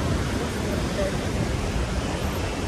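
Water pouring over the overflowing Khadakwasla Dam near Pune during heavy monsoon rain, a dense, steady roar with no breaks from start to finish.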